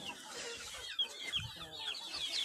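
Free-range country chickens, roosters and hens with chicks, cluck and chatter nearby in a farmyard, a busy overlapping stream of short clucks and calls with no talking.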